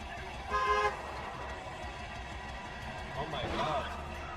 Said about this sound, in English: This lunatic honks and then runs a red light.